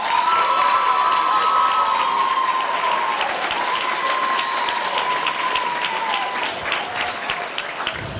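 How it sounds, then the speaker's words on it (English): Audience applause at an Early College Pathway symposium for Quincy College and Quincy Public Schools, a steady dense wash of clapping from a crowd that holds evenly throughout, with faint tonal feedback ringing over it. "How about another round of applause for Alicia?"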